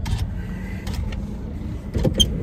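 Inside a parked truck with the engine shut off, a power window whirs briefly down to crack it open, a short close mechanical hum amid faint cabin rustles and small clicks.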